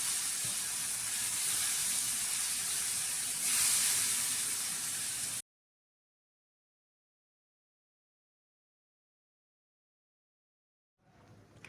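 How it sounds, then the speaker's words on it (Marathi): Dried shrimp (sode) frying in oil in a flat pan, a steady close sizzle and hiss lasting several seconds, then silence before the frying sound faintly returns at the end. "हे सोडे सुद्धा आपल्याला तेलामध्ये अगदी छान परतून घ्यायचे आहेत."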